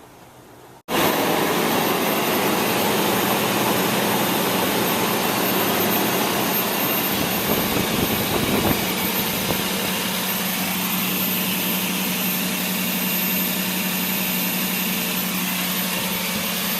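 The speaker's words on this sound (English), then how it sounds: "Timing belt in, motor's running perfect" A Toyota Tundra engine, freshly fitted with a new timing belt, cranks briefly and then catches into a loud, steady idle with a constant hum that runs unbroken to the end.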